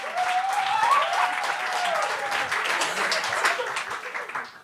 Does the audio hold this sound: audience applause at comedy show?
yes